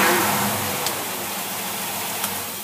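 An engine fitted with a Holley 4548 carburetor revs up as the back barrels open, a loud, rushing engine roar that swells at the start and holds steady, with no talking.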